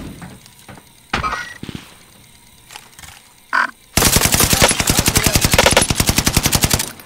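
Rapid automatic gunfire from the Caldera video game bursts in loudly after several shorter, scattered shots and effects, continuing as a dense, steady stream of close shots until the end.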